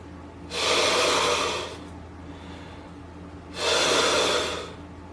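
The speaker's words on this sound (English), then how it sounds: "taking a deep breath" Two deep, broadband breaths during a yoga hip-flexor stretch, each lasting about a second and a half, spaced roughly three seconds apart with quiet room tone between them and no talking.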